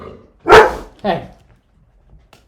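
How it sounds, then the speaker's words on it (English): Dogs at home bark loudly in two sharp, close bursts, followed by quiet; someone briefly speaks over them. "Sorry the dogs are so barky."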